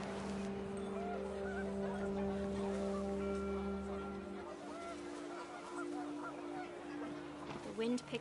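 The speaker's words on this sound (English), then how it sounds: "panicked geese appeared and quickly went" Panicked geese honk in a game scene, a flurry of overlapping calls over a steady low hum of wind and ambience, fairly continuous with a busier burst near the end.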